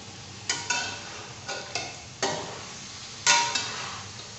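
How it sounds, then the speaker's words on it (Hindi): Tomatoes going into a pan for jalfrezi and being stirred with a spoon make repeated scraping, sizzling strokes in an irregular rhythm, close and clear with no talking. "अब हम टमाटर डालते हैं इसके अंदर और इसको चम्मच से हिलाते हैं।"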